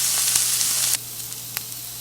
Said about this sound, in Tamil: இப்போ வெங்காயம் போட்டுக்கலாம். வெங்காயம் கொஞ்சம் நல்லா வதங்கினதுக்கு அப்புறமா நம்ம தக்காளி ஆட் பண்ணிக்கலாம்.